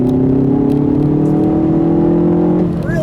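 Engine of a 2019 Hyundai Veloster Turbo in sport mode with sound enhancement switched on, a steady loud droning hum that rises slightly in pitch, then dips near the end as a gear shift or lift-off occurs.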